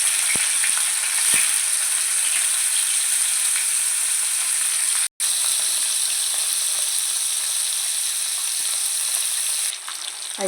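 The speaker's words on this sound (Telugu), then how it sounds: "ఇలా కడుక్కుని కొంచెం ఫ్రై చేసుకోవాలి లైట్గాను" Salted fish fries lightly in hot oil with a steady, close sizzle broken by occasional clicks and a brief pause, and no one talking.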